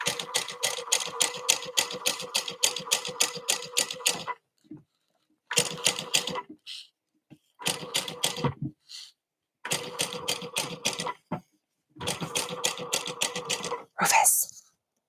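A sewing machine tacks down the edges of a passport wallet in five rapid, rhythmic stitching bursts separated by short pauses, with quiet talk in between.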